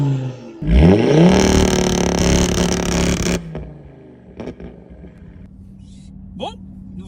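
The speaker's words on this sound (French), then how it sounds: "On va se faire un petit tour en stage 2 RS3 5 cylindres à fond." Audi RS3 stage 2 five-cylinder engine, about 480 hp, accelerating hard, a loud rising roar that climbs in pitch for a few seconds, then cuts off to a low idle burble with a brief later rev.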